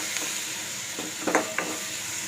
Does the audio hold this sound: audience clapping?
no